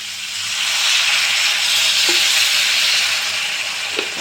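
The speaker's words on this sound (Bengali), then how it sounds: "মাছগুলো সিদ্ধ হওয়ার জন্য আমি একটু জল দেব, অল্প।" Rohu fish sizzles loudly in a pan as a little water goes in, a strong steady hiss that swells and holds, with light scrapes of a spatula.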